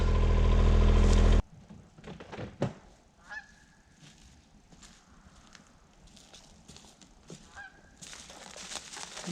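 Canada geese honk overhead outdoors. A few short honks come through faintly after a loud opening burst of engine noise, and brief rustles sit in the background.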